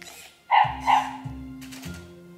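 A toy robot dog gives two electronic barks close by, followed by a few short mechanical whirring and motor sounds at an even pace.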